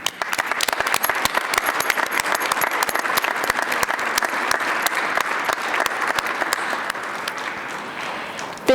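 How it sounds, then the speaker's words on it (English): Audience at a National Honor Society induction ceremony applauding new members, a dense, even stretch of many hands clapping that holds steady and tapers slightly near the end. "please join me in applauding all of our new Honor Society members"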